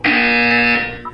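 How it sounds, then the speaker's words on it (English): A loud buzzer from the Portal 2 video game sounds as one steady, harmonically rich tone lasting about a second, then cuts off with a brief blip at the end. "You will hear a buzzer."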